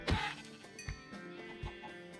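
Chickens clucking in a modded Minecraft Skyblock world, a few short, close game-style clucks and squawks, separated by brief pauses, with no talk over them.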